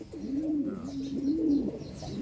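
Soft, rolling coos of a pigeon repeat in a low warble, fairly close, with faint background sounds.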